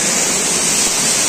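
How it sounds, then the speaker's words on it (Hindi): Water crashes down Ghogra waterfall in Madhya Pradesh as a steady, loud, broadband rush that fills the scene evenly from start to finish, with no talk over it. "देखिए कितना मस्त वाटरफॉल है"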